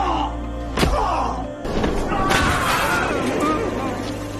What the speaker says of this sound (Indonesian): James yang sudah naik pitam langsung menendang Devin sampai ia pun terkapar.